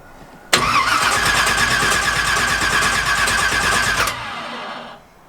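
An 800 BHP drag car engine firing up after a jump start: an abrupt loud start into a harsh, roaring idle lasting several seconds, then dropping in level and cutting off, heard close up.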